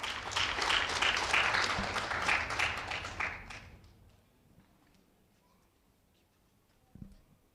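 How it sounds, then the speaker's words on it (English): Audience applause welcomes a speaker at a business forum, a burst of clapping that fades out after about four seconds, leaving a quiet room with a faint knock near the end. "A round of applause to her as we welcome her."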